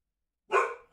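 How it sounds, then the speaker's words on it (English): A single sharp dog bark breaks the silence, loud and close, in a home during a live broadcast. "My dog's barking set y'all's dogs off."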